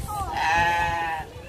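A single drawn-out goat bleat at a zoo, loud and close, lasting over a second with a wavering tone.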